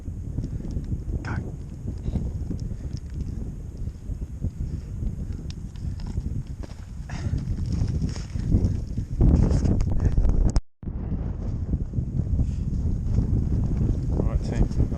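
Strong outdoor wind in the New Zealand hills buffets the microphone with loud, continuous low rumbling and gusts, briefly cutting out before resuming just as heavily.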